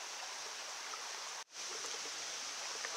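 Water flows steadily through a wooden-sided mill race with a rocky bottom, feeding Mingus Mill in Great Smoky Mountains National Park. The broadband rushing is close and continuous, with one abrupt brief dropout midway.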